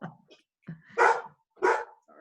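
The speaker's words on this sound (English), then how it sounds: "If you hear the dogs barking on it," Dogs bark indoors in a short series of sharp, fairly close barks, two loud ones standing out between softer yips and whines, with no talking over them.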